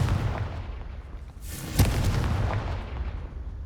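A Confringo fire spell in Hogwarts Legacy bursts with a deep, rumbling boom and a sharp crackling blast in the middle, set against a continuous low roar with no voices.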